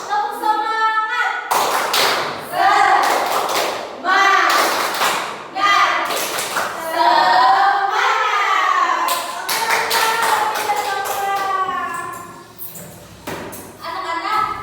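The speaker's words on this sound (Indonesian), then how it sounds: "Gimana tuh lagu tepuk semangat?" Schoolchildren clap the tepuk semangat rhythm in a classroom, sharp rhythmic claps in short bursts under loud sung and chanted voices of the class.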